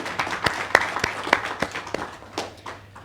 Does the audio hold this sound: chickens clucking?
no